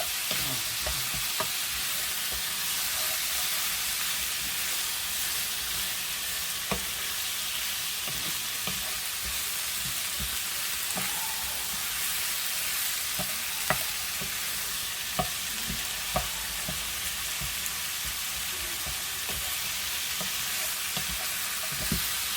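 Finely sliced onions sizzle steadily in a frying pan, with occasional scrapes and clicks of stirring over a constant hiss, and no voices present.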